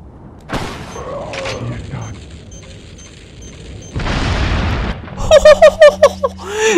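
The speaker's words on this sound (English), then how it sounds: "Wait a minute, the mine thrower." A mine thrower in Resident Evil 4 fires with a sharp thump, and a roaring explosion follows a few seconds later, then a string of rapid pops and game sounds close by.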